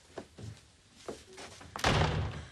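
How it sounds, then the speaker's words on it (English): A door slams shut once, sudden and loud, in an indoor sitcom home scene, following a few softer knocks and movements. "Close the door."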